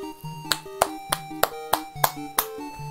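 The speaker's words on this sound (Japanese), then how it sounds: "この無意味な拍手何なんでしょうかね。" Applause in the video game Dragon Quest Monster Battle Road Victory: a short run of about eight evenly spaced, crisp claps over a looping musical tone, fairly quiet.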